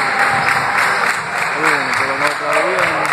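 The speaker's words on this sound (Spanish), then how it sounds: "ahora la aplaudición" Applause at the opening of a basketball game in a Pueblo Nuevo park, a steady wash of clapping from a crowd, with people talking and calling out over it.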